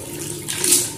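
Water runs from a bathroom tap in a new house in Oman, a steady close hiss that swells louder toward the end, with no voices.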